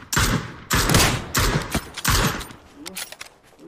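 Several loud gunshot bursts in quick succession, a rapid volley of booming shots followed by fainter clatter as it dies down.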